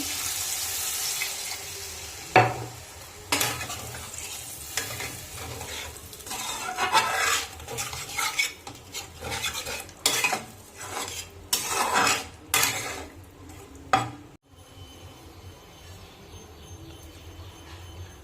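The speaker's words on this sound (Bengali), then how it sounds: "ভালো করে কষানো হয়ে গেছে, এখন আমি জল দিয়ে দেবো পরিমাণ মতন।" A spoon scrapes and clinks around a pot as water is stirred into a silver carp fish curry, with loud, irregular clattering strokes that gradually thin out toward the end.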